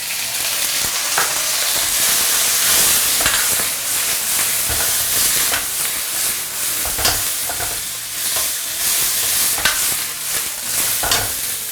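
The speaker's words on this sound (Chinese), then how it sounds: "先下入青瓜，青瓜就不要焯水了，直接炒" Cucumber and razor clams stir-fried in a wok, a loud dense sizzle with frequent clattering scrapes and tosses throughout, very close and without talk.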